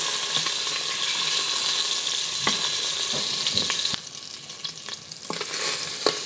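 Pork pieces sear in a hot pan while an Asian pulled pork dish is cooked, giving a steady close sizzle with occasional clicks and scrapes from handling the meat; the frying quiets a little partway through and no one speaks.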